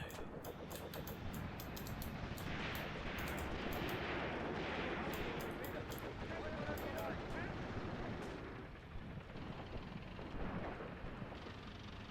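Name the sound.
indirect artillery fire in Graviteam Tactics video game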